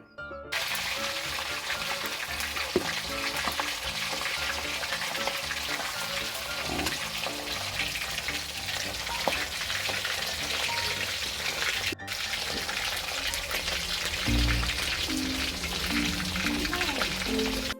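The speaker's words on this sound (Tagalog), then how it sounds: "Ito na yung piniprito namin para sa sasyado." Galunggong fish frying in oil in a pan over a wood-fired stove, giving a steady, dense sizzle and crackle close by that continues throughout, with some soft clatter and a brief change near the end.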